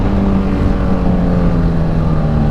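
A Kawasaki Z1000 motorcycle engine, running with a front shock issue, rumbles steadily in an echoing spot near a building, a loud continuous low drone with no talk.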